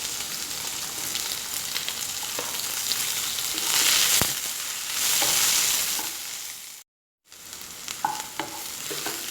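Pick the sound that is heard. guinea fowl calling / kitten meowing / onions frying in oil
onions frying in oil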